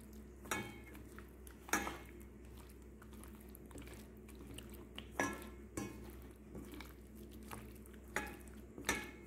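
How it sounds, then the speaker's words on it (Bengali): Fish pieces being mixed with egg by hand in a bowl for chilli fish, with soft wet squishing and scattered clinks of the bowl at irregular intervals, quiet and close with steady background hum. "দিয়ে আমি মাছগুলোকে মেখে রেখে দিচ্ছি।"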